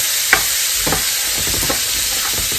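A pan of curry turkey wings with garlic in vegetable oil has its bottom scraped, giving a constant loud sizzle with several short scraping strokes, no voices.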